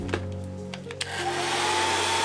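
A hair dryer blows on wet acrylic paint during an autumn painting, preceded by a few soft clicks and taps before the close, steady whooshing hum starts and holds.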